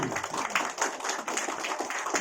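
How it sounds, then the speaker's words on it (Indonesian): An audience at a marketing plan presentation claps steadily and briskly, a dense patter of hand claps filling the room for a couple of seconds. "Tepuk tangan dulu."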